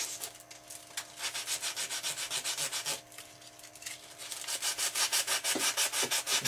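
Sandpaper scuffing paint off the foam of a Canadair RC airplane, with steady rhythmic close strokes that pause briefly and then resume faster and louder, and no voices.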